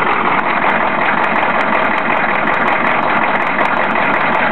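A 1993 Chevy diesel engine idling roughly, a steady loud rumbling clatter that carries on unbroken with no voices.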